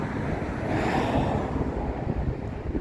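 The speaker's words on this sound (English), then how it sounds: "sorry about the road noise." Road noise from passing traffic, a steady broad roar and rumble like wind, continuous and fairly loud for the whole stretch, with no voices over it.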